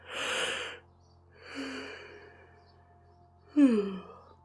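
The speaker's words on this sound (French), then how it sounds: "bailler et faire bailler, ça aide aussi à relâcher les tensions" A person yawns three times to release tension, long breathy exhalations separated by pauses, the last one ending in a voiced moan, close and alone.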